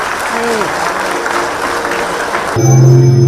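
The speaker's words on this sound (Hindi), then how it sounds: "और हम सब शामिल हो जोरदार तालियों के साथ" Loud, sustained applause from a large crowd at the 73rd Van Mahotsav forest festival event in Ranchi, continuing steadily throughout.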